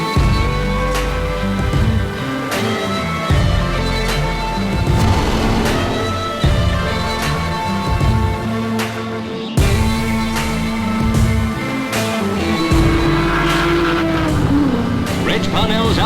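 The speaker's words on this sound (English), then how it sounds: "But holding his own is Collins in an Aston Martin, seen here passing an HRG" An Aston Martin racing car passes an HRG at Goodwood, loud engines revving and shifting through gears close by, continuous and powerful, while a commentator talks over the racing noise.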